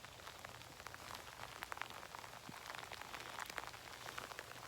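Rain falls steadily on a dairy farm, a soft, continuous patter of drops on surfaces over a low background hum.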